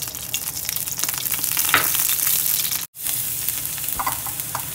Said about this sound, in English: Heat up the frying pan and then put oil.